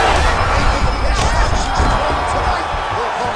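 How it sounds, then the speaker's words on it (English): An arena crowd roars and cheers loudly at a women's fight in EA Sports UFC 5, a dense sustained wash of noise with sharp impacts and commentary voices underneath. "The crowd goes crazy because they..."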